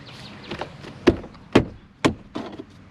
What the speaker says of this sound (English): and snap the door into place.